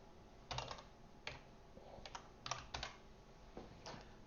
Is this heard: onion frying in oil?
no